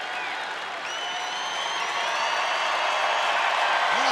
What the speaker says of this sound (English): Now the crowd getting into it.